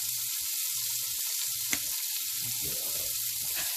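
String beans sizzling in bubbly melted butter in a pan, a bright, constant close-up crackle and hiss with a single sharp tick partway through and no talking.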